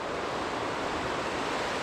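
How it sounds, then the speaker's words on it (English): Overflow water from Backwater Dam in Scotland rushing steadily down a burn, a dense continuous wash of flowing water with no pauses, fairly loud and close throughout. "this is obviously just the overflow water, which floats away down the burn"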